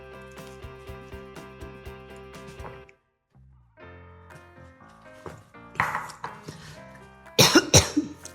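A woman baking sweets in a home kitchen coughs in a few sharp bursts after soft background music, the coughs louder and grouped toward the end.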